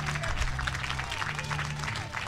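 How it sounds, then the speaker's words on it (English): Steady applause from a large crowd of local fans at a youth baseball game, the 2017 Intermediate World Series, with a murmur of voices and a low commentator-like voice mixed underneath throughout. "So Tyler Beach walks off to a big round of applause by the big local fan base here."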